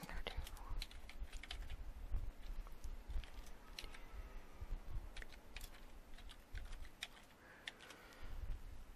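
A new password is typed on a computer keyboard during a WordPress installation, giving soft, close, rapid key clicks in irregular bursts over faint room hiss.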